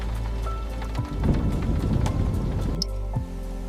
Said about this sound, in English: The rain is getting heavier outside.